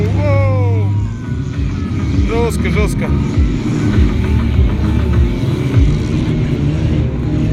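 Several cars in a no-rules dirt race in the village of Zhatay, engines revving loudly and continuously near and far beneath excited shouting and talk.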